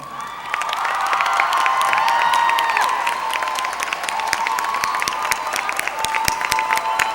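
A commencement audience in an indoor hall gives faculty and staff a sustained round of applause. Steady, loud clapping is mixed with cheers and whoops for several seconds.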